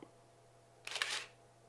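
Shutter release on a manual film camera set to 1/4000 second, heard as one short, sharp mechanical snap-and-whir burst, close and clear against near silence.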